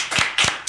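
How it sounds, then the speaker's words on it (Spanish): On a television talk show set, a studio audience greets an arriving guest with three distinct, spaced claps. The claps are close and crisp, with no voices. "Un aplauso para ella."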